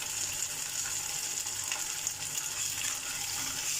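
Ginger garlic paste fries in a pan for Lahori chikar cholay, giving a steady, close sizzle with soft bubbling hiss that runs unbroken and evenly loud throughout.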